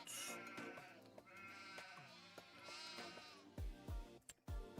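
A dense flock of sheep and goats in Farming Simulator 25 bleats in overlapping calls, loud and near, followed by a few short, heavy thumps near the end.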